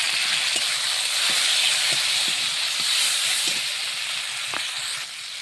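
Tomato dropped onto sautéing onions in a hot pan gives a steady, loud sizzling hiss throughout, broken by a few soft clicks and taps from stirring, with no voices.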